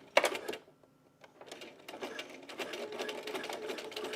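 A home sewing machine top stitching a two-tone bralette, whirring in short bursts with rapid needle clatter after a sharp click, close and fairly quiet.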